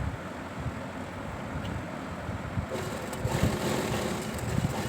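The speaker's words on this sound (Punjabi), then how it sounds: "ਦੋਨਾਂ ਸਾਈਡਾਂ ਤੋਂ ਆਪਾਂ ਇਹਨੂੰ ਸਿਲਾਈ ਕਰਾਂਗੇ" A sewing machine stitches a pocket onto a ladies' suit, its motor giving a steady, close whirring drone that grows slightly louder and busier in the second half, with no talking.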